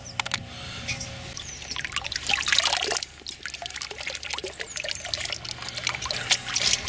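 Cold stream water trickles, pours and splashes while someone pans for gold outdoors, an uneven run of close splashes and gurgles that swells in the middle and stays busy to the end, without speech.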